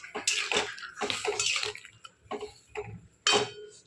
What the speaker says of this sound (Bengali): রাজমার মধ্যে অল্প পরিমাণে জল দিয়ে দেবো, বেশি না, অল্প